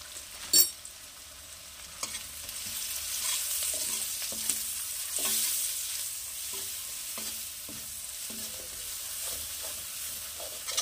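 One and a half spoons of cumin powder fry in a pan for a Bengali-style shish palong, giving a steady, moderate sizzle with intermittent light stirring clicks and one sharp clack near the start.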